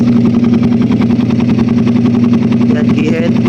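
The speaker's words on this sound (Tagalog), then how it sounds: "painitin lang natin yung makina niya para makita natin yung tono niya talaga" A Raider 150 motorcycle engine fitted with a Keihin 28mm flat-slide carburetor idles loud and close, its low humming pulse even and unbroken throughout.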